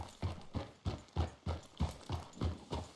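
Horse hooves clip-clop at a steady walking pace in Red Dead Redemption 2. About nine even, soft thuds are heard up close, with no talk over them.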